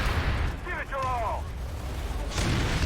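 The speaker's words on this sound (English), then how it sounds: "C4s are going off like crazy. You can just see explosions upon explosions." C4 charges detonating during a large 60-versus-60 battle in the video game Planetside 2, a dense rumble of booming blasts heard under a commentator's voice.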